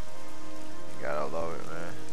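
Steady rain falls in DC Universe Online, a continuous wash of patter in the background, with a brief burst of a tonal game effect partway through.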